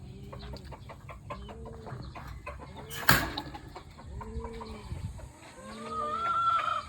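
A gamefowl rooster clucks in a series of short, evenly spaced calls close by, with a sharp knock midway and other birds chirping faintly behind.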